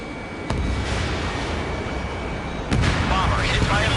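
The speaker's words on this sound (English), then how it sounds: "Bomber hit by a missile. Missile hit. Bomber is down." A missile strikes a bomber during an Ace Combat 7 dogfight, two sharp broadband blasts landing about two seconds apart over a steady roar of jet engine and battle noise, with radio chatter mixed underneath.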